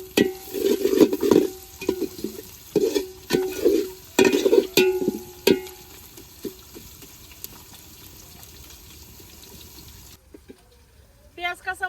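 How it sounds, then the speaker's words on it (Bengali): Crushed garlic goes into hot oil with fried onions and green chillies for a bhuna khichuri. Rhythmic stirring scrapes ride over a gentle sizzle, then fade to quieter frying before a brief rattle at the end. "প্রায় এখন দিয়ে দিব ছেঁচা রাখা রসুন।"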